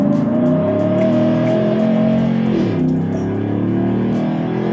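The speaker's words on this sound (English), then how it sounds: "Traction control is off this time, and I'm sure we'll peel out quite a bit here." A 2014-or-newer GM truck fitted with a throttle booster, traction control off, launching hard: a loud, close engine roar climbing in pitch for several seconds, with a dip and renewed surge partway through and no talk over it.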